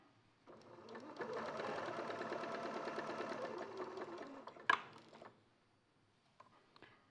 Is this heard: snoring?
no